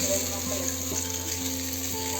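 Fish pieces frying in hot oil in a pan, a steady close hiss of sizzling with faint crackles and no talking.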